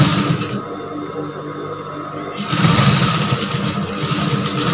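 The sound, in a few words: sewing machine stitching brocade tunic shoulder seam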